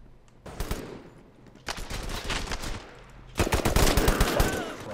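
Rapid automatic gunfire from teammates in the tactical shooter BurstFire comes in three dense bursts. The last burst is the loudest and most sustained.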